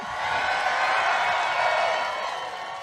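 A massive crowd at a political rally cheers and roars in a steady, dense wash of noise from a distance, holding at an even level throughout.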